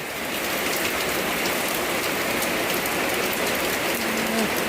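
Steady, dense rainfall hisses continuously, close and loud, with no voices.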